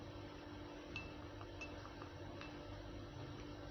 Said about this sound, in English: So I'm going to stir very well, okay, so that the herbs will be properly combined.